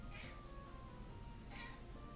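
An elderly 17-year-old pet cat meows twice indoors, short soft calls spaced about a second and a half apart over quiet room hum.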